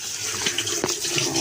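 Tap water running while lettuce is washed, a steady close splashing rush with a few brief clatters and knocks of handling.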